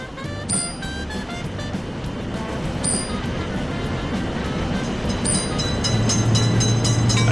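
Wheels clack and rumble as a train passes a railroad crossing, the noise building steadily with sharp metallic ticks and a low droning tone near the end.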